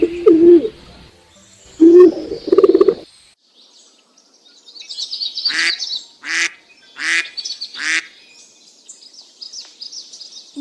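A duck gives a run of quacks, first a few low, nasal calls and then a brisk series of sharper, evenly spaced bursts, close and clear.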